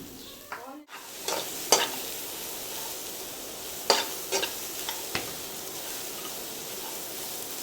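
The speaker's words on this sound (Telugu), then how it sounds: "ముందుగా మనం ఆనియన్స్ను ఫ్రై చేసుకుందాం" Chopped onions frying in a pan for a masala omelette, a steady close sizzle with a few sharp scraping stirs and clinks of the spatula against the pan.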